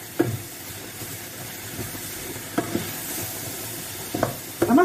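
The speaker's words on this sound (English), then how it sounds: "So that's all sizzling quite nicely." Food sizzles steadily in a frying pan, a continuous hiss broken by a few soft scrapes and clinks of stirring.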